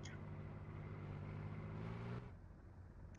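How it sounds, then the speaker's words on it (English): A BTR armored vehicle engine in the Squad video game, a steady, faint mid-pitched drone that holds evenly throughout and drops off slightly near the end. "He's gotta be scared out of his mind right now hearing that BTR."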